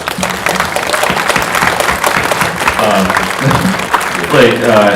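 Audience applause at a film screening Q&A, a steady wash of clapping throughout, with voices talking over it and swelling louder near the end.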